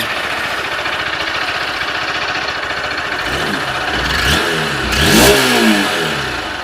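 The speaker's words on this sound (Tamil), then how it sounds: "இப்போ நம்ம யூனிகாரோட த்ராட்டல் ஆஸ் கேட்போம் நம்ம" A 2025 Honda Unicorn 160cc motorcycle idles with a close, steady engine note, then its throttle is opened for two sharp, rising revs near the end. The engine is loud and no one speaks.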